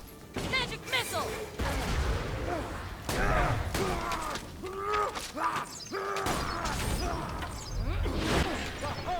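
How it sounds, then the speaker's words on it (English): A magic missile spell in Borderlands 2 fires off in a series of whooshing, crackling bursts amid clattering combat noise, loud and close, with repeated swishes and impacts over several seconds. "Magic missile."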